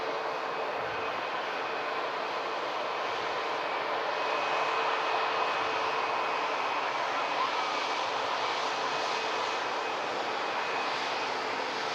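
A Singapore Airlines jet taxiing out at Manchester Airport gives a steady, continuous engine whine and hum with a faint tonal note running through it, at constant loudness and with no speech.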